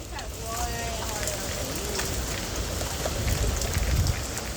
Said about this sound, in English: it's getting very windy right now. It might actually be hailing.